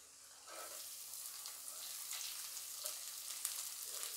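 Chopped small and large onions fry in a hot pan, a soft steady sizzle with occasional crackles and pops, faint and close, with no talk over it.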